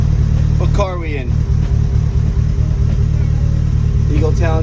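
An Eagle Talon TSI all-wheel-drive car engine hums steadily and loudly from inside the cabin while people talk over it throughout.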